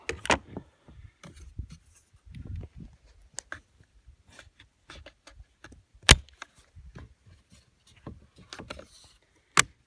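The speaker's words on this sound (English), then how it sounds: "Bipod folds back into place." Bipod on a Steyr rifle being folded back into place, a scatter of small clicks, scrapes and a couple of sharp metallic snaps, close up amid near silence.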